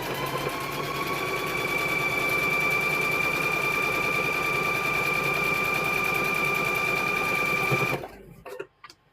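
A sewing machine runs steadily for about eight seconds, stitching across quilt squares, with a loud, continuous whirring hum and rapid needle clatter that stops abruptly, followed by a few brief clicks and handling noises.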